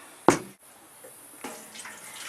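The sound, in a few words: pouring kelp, worm and molasses mixture into a watering can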